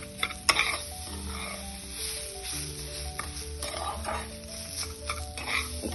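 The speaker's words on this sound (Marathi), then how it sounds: "एक सारखं सतत भाजत राहायचं आहे।" Semolina and fresh grated coconut dry-roasting in a pan for traditional jaggery-coconut modak, with a steady scraping stir and soft sizzle, scattered clinks of the spoon against the pan, and background music throughout.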